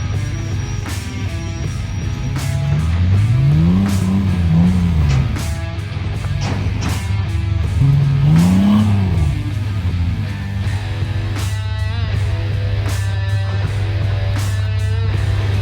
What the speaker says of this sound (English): we can see Justin down there in the Ibex Jeep. We've got a hill climb obstacle right here.